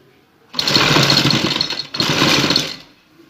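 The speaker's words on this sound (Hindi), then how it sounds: "लैस पहले अटैच कर लेंगे तो आपको सिलाई लगाने में आसानी होगी इस तरीके से।" A sewing machine stitches lace onto the neck of a shirt in two loud continuous bursts of buzzing, whirring motor noise separated by a short pause.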